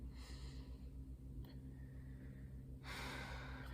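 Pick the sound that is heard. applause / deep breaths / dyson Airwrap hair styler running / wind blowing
deep breaths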